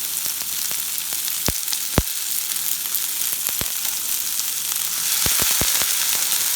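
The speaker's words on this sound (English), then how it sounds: "So we're just adding the onion and the garlic to the pot to saute it." Onion and garlic sauteing in avocado oil in a pot, a dense continuous sizzle heard up close with scattered sharp pops and crackles, no talking.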